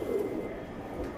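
A pigeon in a pigeon club loft gives a soft low coo, close and brief, against a faint background murmur.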